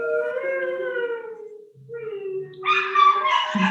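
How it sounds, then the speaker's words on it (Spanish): Several pet dogs whine and howl as a garbage truck passes, high wavering cries rising and falling close by, then breaking into louder overlapping yelps. "Perdón, es que mis perros se ponen así cuando pasa el camión de la basura"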